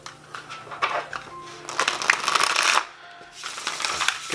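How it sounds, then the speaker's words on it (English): A large pile of tarot cards is shuffled by hand in repeated riffling bursts, close and fairly loud, with a brief pause before the shuffling resumes. "I wouldn't be able to shuffle this this huge pile of cards if I did not have big hands"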